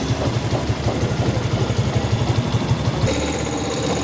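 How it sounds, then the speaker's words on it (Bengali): Motorcycle engine idling without throttle just after an oil change, with a steady rapid low chugging that stays at an even level throughout and is heard close with no talk. "5-7 মিনিট মতো এইভাবেই জাস্ট স্টার্ট দিয়ে রেখে দেবো উইদাউট থ্রোটল"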